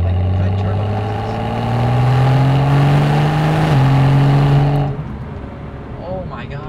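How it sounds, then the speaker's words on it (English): Stock-exhausted 2012 BMW 135i with a small turbo revving loudly and steadily, engine pitch climbing over several seconds before dropping off sharply near the end, with turbo whoosh mixed into the close, continuous roar. "the sounds this car makes go beyond just like revving noise, and this is pretty much a stock exhaust. It makes turbo noises"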